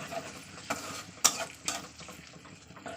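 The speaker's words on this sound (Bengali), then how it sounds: "দিয়ে এবার মশলাটা ভালো করে তেলের সঙ্গে কষিয়ে নেবো" Spice paste frying in oil in a pan, a soft, quiet sizzle broken by a few sharp scrapes and clicks as a spoon stirs it.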